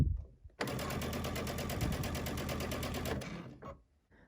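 A sewing machine with a walking foot runs in one steady, fast stitching burst of about three seconds while quilting channels along grid lines, starting abruptly and then slowing to a stop. The motor is close and loud, with no talking.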